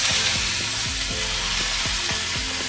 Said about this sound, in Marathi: आता कांदा घालू याच्यामध्ये.